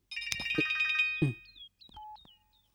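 A telephone rings with a bright electronic trill, then a few shorter chirping tones follow as it fades, with no voices.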